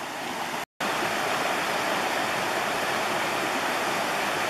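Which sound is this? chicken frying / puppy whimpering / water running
water running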